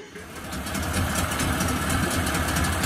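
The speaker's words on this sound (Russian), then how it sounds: "Вот так работает мотор." A Hidea 9.9 Pro outboard motor idles close by with a fast, even mechanical chatter and a rapid rhythmic pulse that runs loud and steady for about three seconds.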